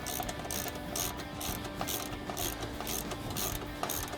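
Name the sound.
18mm ratchet tightening trailing arm pivot bolt on Polaris XP1000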